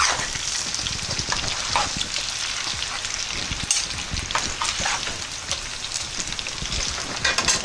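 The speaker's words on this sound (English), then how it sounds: "Our sauce is boiling." Spicy beef spaghetti sauce with garlic, pepper and Parmesan bubbles and sizzles steadily in a pot on the stove, a dense close crackling texture with no talk.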